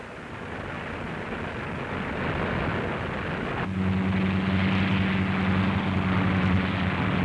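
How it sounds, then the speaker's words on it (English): Engines of RAF Bomber Command heavy bombers starting up, a broad rumbling roar that grows and settles into a steady droning hum partway through, loud with no talk. "the engines of the heavy bombers of Bomber Command start up"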